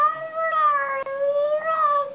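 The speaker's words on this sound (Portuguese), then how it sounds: "Sabe quando tem aquela suruba de gato em cima do telhado que eles ficam com ódio?" A single drawn-out, wavering cat yowl, loud and close, rises and falls in pitch like an angry cat on a rooftop, with no other sounds around it.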